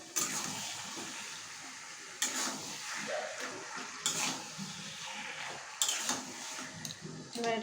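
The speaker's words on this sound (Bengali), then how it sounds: "এটাকে আমি দিয়ে দেবো এবার কড়ার মধ্যে" Marinated chicken frying in a kadai, a steady hiss of frying under intermittent loud stirring clatters, the spoon striking the pan every couple of seconds.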